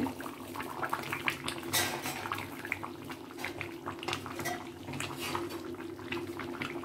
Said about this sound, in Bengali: মাংসটা ফুটছে।